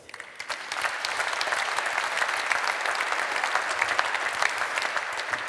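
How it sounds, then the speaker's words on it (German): A concert audience in a synagogue claps throughout, a continuous, fairly dense applause that stays at an even level from start to finish. "Applaus"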